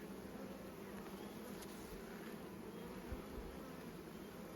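Honeybees in an opened hive busily building comb, a faint, steady, dense buzzing hum that stays continuous and even throughout, with no voices.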